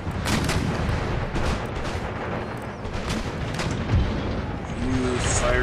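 Booming artillery fire in a war strategy video game, with repeated heavy blasts and rumbling explosions layered densely and loudly throughout, while someone talks underneath.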